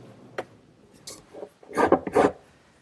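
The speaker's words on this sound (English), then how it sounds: "I'll clean that up with a wood rasp back at the bench vise" A wood rasp files a wooden corner of a Shaker woodbox at a bench vise, a few scattered rasps building to three loud, close, gritty strokes near the end.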